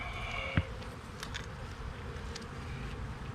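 Steady, soft buzzing of many honey bees around an open hive, a continuous low drone with occasional closer wingbeats passing by.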